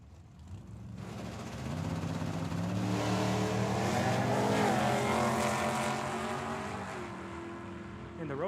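At a Tucson Dragway drag race, a Ford Mustang and a 1927 Roadster launch side by side, the engines swelling into a loud rising roar that peaks at mid-run and then fades as the cars pull away.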